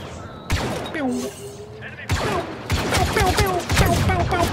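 Laser cannons fire in Star Wars Battlefront 2 on PS4 Pro: loud repeated blaster bursts with descending zapping tones, some in rapid volleys, layered over busy battle noise.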